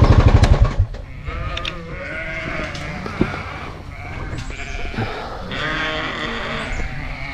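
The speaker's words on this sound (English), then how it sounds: "Let's go take a look at how those ewes did on pasture." Several ewes bleat one after another outdoors on pasture, some close and loud, others farther off, with a faint engine hum in the background.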